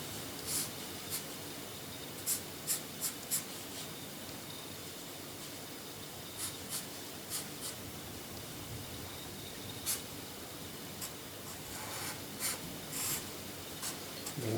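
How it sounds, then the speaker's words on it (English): A Sharpie marker drawing across paper, giving a soft continuous scratchy rub with occasional sharper strokes and taps, close up and fairly quiet, with no talking. "that's kind of why I'm drawing in Sharpie, which I don't normally do"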